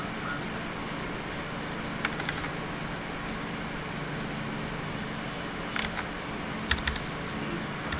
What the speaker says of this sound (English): Just using the bracket keys to increase and decrease the brush size.